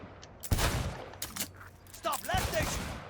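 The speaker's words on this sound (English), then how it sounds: "as you're drawing your weapon, you can actually start firing" Pistol shots from the video game Cyberpunk 2077 ring out as sharp, loud cracks in quick irregular bursts, with a person talking faintly between them.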